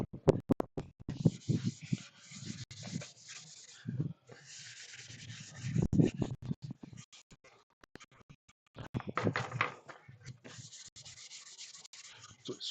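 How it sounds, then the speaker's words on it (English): Sandpaper rubs back and forth in uneven bursts of scratchy strokes, with short pauses between passes, fairly close and quiet. "Now do a little sanding on"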